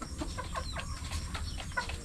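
Young chickens on a small farm cluck and chirp in short, overlapping calls, fairly quiet over a steady background hum, with no talk.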